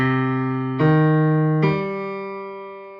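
Three sustained bowed violin notes forming a minor arpeggio sound one after another, each held about a second, clear and close with no other sounds.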